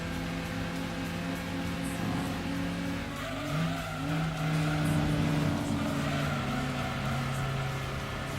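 Racing cars in Gran Turismo 2 arcade mode, including an Alfa Romeo and an Audi TT, produce a steady layered engine drone with shifting pitch as the cars rev and pass. The sound is continuous and moderately loud, with no talking.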